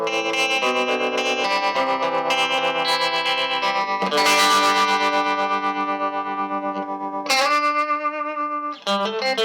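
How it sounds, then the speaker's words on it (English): Electric guitar notes and chords through a vintage 1966/1967 Vox Berkeley II amp, the sustained tone pulsing gently in volume with its wavering tremolo effect. "I'm going to show you the tremolo circuit in it."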